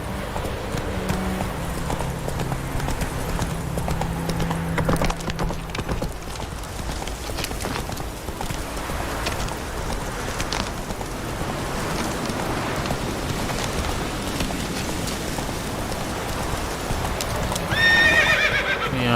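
A horse in Witcher 3 moves at speed with a continuous rhythmic drumming of hooves and a neigh, heard through a constant dense rumble of game ambience and rain.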